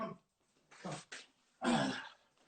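A small puppy lets out a few short, soft yaps and whimpers close by, spaced apart with quiet gaps between them.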